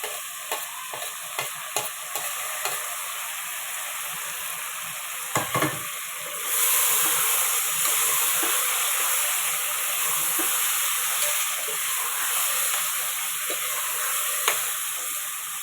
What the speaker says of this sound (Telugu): ఓకే అండి ఇప్పుడు మనము టమాటో వేసుకుందాము